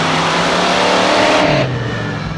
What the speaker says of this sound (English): Riding in the Obsession monster truck.